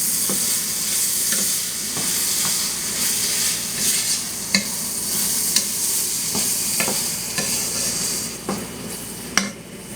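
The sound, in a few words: stirring a mixture in a pan on the stove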